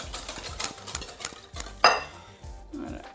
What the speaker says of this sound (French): Je mélange et je mets les œufs.